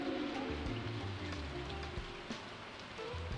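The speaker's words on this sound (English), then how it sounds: "How did I become surprised by green rain?" Steady green rain patters continuously in Stardew Valley 1.6, a dense even hiss under a looping game music track with low plucked notes.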